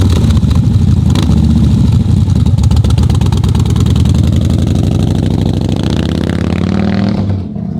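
A Jeep Gladiator's engine runs loud and close, with a steady idle rumble and a slight rise in revs before it tapers off near the end, and no talking.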